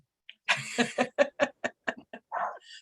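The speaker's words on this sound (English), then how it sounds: "Sorry, that's my dog." A dog barks in a quick series of sharp yaps, about eight in a row, fairly close and clear with no talking over it.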